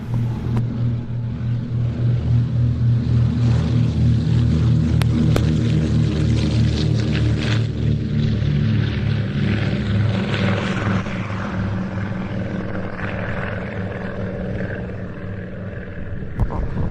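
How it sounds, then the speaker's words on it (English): A Consolidated PBY Catalina flying boat taxis across grass at an airfield flying day, its radial propeller engines droning loud and steady with a throbbing low rumble that slowly eases as it rolls past. "This as the Catalina rolls down the grass."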